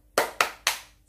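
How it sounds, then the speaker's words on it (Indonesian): Three crisp, close hand claps in a quick rhythm, a children's spirit clap done at home, each sharp and ringing briefly in a quiet room. "tepuk semangat"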